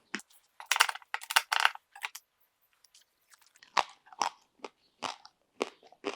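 Crisp, loud crunching bites into crackling porchetta skin, roasted on a Weber rotisserie, come in a dense burst of crunches and then a slower run of separate crunchy chews.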